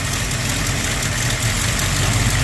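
A Dodge Ramcharger's freshly installed engine idles with its distributor still loose, a loud, close, steady low rumble with a slight lumpy pulse and no talking.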